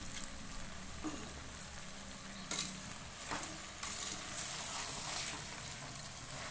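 Mixed vegetables for pulao fry in hot oil, giving a continuous soft sizzle with a few sharper crackles and stirring clatters as the pan is worked.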